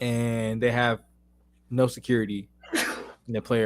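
One sharp sneeze bursts out between stretches of conversation, with people talking before and after it.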